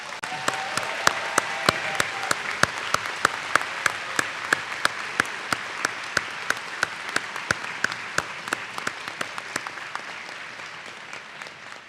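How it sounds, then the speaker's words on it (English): A large commencement audience at a college graduation ceremony applauds steadily for about twelve seconds, dense clapping with a few sharp individual claps standing out, no voices on top. "Please join me in applauding their contributions."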